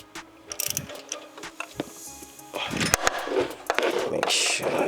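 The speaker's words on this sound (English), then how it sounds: "So now we're gonna use the socket." A ratchet and socket turning an oxygen sensor on a car engine give quick runs of close mechanical clicking, mixed with metallic taps and handling noise in a workshop.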